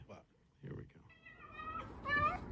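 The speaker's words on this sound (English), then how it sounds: "It's the cat eating the red pepper." A cat chews on a cooked red bell pepper, letting out growling, moaning meows that rise and waver near the end, close and fairly loud, with soft voices in the background.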